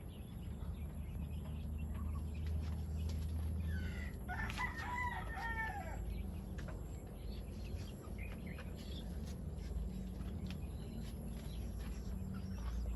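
Backyard farm rooster crows once at middle distance, a single rising-and-falling call over a steady low hum, with faint clucks and bird chirps scattered around it.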